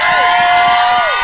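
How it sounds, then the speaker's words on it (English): A crowd at a music session cheers and shouts in a brief, loud, dense burst, with voices blending into one continuous roar. "Can we get a little round of applause for our girl"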